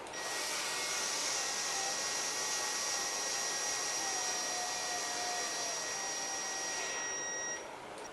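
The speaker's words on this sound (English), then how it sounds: "I buzz these out at high speed with this little nut driver" A small power nut driver spins nuts onto threads at high speed, making a steady, close whirring whine with thin high tones that holds for about eight seconds before easing slightly at the end.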